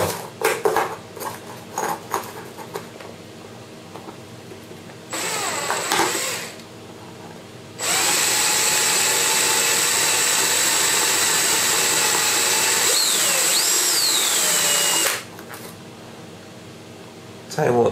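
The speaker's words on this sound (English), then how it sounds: "these metal drills go through this plastic like butter." A power drill fitted with metal bits bores through a plastic box, with a steady, loud, high whirring grind lasting several seconds after a shorter burst, preceded by quieter handling clatter.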